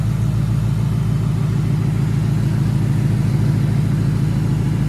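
A 2024 Ford Mustang S650 engine idles close by, a loud, steady low rumble with an even pulsing throb and no talking.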